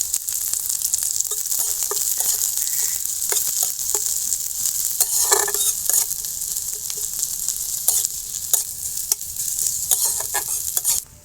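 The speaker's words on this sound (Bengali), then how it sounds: "হালকা ভাজা হয়ে গেছে, এবার দিয়ে দেবো পেঁয়াজ কুচি।" Chopped onion and garlic fry and sizzle in a pan for a cauliflower bharta, a steady broadband hiss broken by scraping stirs throughout, close and fairly loud with no talk.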